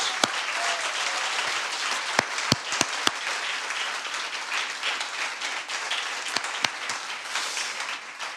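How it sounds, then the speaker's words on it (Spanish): Congregation applauding in a church service, a steady dense wash of clapping held throughout with a few sharper individual claps standing out, no voices over it. "Démosle una gloria, un aplauso de gloria a nuestro Dios"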